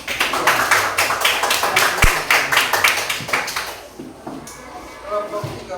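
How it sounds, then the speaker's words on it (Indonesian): Classroom clapping for a student group during a peer-teaching session, a rhythmic patter of hands in uneven bursts that thins out toward the end, with a sharp tap near the start. "Tepuk tangan sekali lagi untuk kelompok dua."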